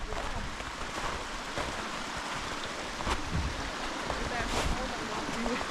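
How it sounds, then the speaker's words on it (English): A river in Ferguson Canyon, a steady broad rush of flowing water near and fairly loud, with faint voices now and then. "But we're at the river."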